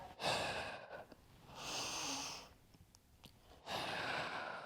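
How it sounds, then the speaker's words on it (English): Slow breaths during a yoga session, with soft airy exhalations rising and fading in long waves, close and quiet, with no speech. "Exhale, send that breath out as you curl inward."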